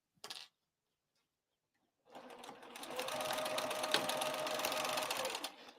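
A sewing machine stitches a quarter-inch seam on the exterior of a crossbody bag with the stitch length set to 3. A short clack comes first, then a pause, then a steady, close whirring run of several seconds.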